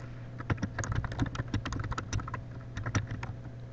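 Rapid typing on a computer keyboard while a comment is entered in a document, with dense, close, irregular key clicks running throughout and no talking.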